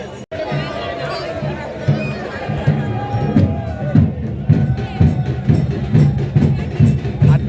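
A dense crowd murmurs and shouts at a village temple fair during a palanquin procession for the Insuli Devi Mauli jatra in Sawantwadi, Konkan, with rhythmic pulsing noise and many overlapping voices nearby.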